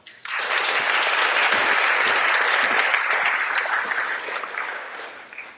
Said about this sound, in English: applause, warm welcome for Lee Dohm.